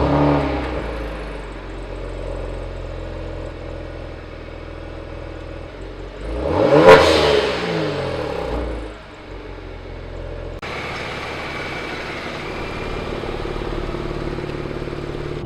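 A Kia Stinger cold-starts: after a low background rumble, the engine catches with a sharp, loud revving flare midway, then settles into a steady idle.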